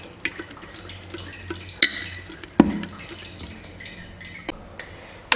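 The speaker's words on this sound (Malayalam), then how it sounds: "ഇനി എല്ലാ ഇൻഗ്രീഡിയൻസും കൂടി ഞാനൊന്ന് മിക്സ് ചെയ്തെടുക്കട്ടെ" Batter ingredients for Kerala thattu dosa being mixed in a bowl, with quiet stirring scrapes and several sharp clinks of a utensil against the vessel.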